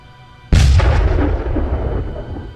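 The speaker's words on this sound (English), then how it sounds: "But let's fire off little David." A custom-built weapon fires in Space Engineers, one sudden loud deep boom that rolls on in a long rumbling decay, with no voices.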